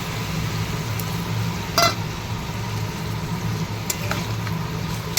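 Ground poppy seed paste with green chilli fries in a pan with ridge gourd, a steady soft sizzle under a low background hum, with a few sharp clinks of stirring.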